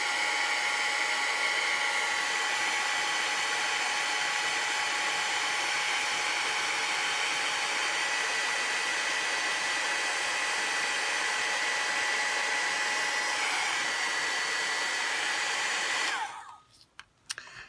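A heat tool blows steadily and loudly for about sixteen seconds, melting embossing powder on thin metal-look die cuts, then cuts off abruptly with a few faint clicks.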